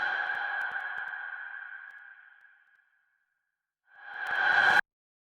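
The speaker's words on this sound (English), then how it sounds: "And then to create what is commonly referred to as an impact sound," A ringing, tonal impact sound effect made in Ableton with heavy reverb fades out through a long reverberant tail into silence, then a reversed swell builds and cuts off abruptly.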